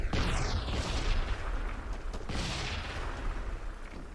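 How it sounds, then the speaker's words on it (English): A vehicle explodes in the video game Epoch Mod with a loud, rumbling blast, followed by a sustained roaring, crackling burn with a few sharper bursts. "The vehicle explosion is like what started the chaos."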